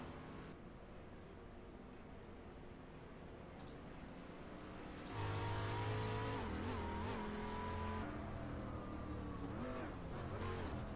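A dirt street stock racing car engine in a video game drones steadily, then surges louder midway, its pitch climbing and dropping in repeated steps as gears shift, with brief clicks early on.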